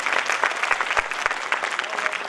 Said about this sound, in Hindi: आप सभी जोरदार ताली बजाएं।